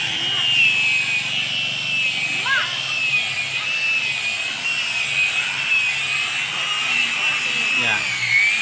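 Polishing machine buffing chemical stains off glass, a continuous high whining hum with a slight wavering pitch, steady and close throughout.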